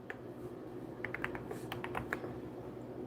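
Light typing on a computer keyboard as names are entered, a short irregular run of soft key clicks in the middle over a low steady hum.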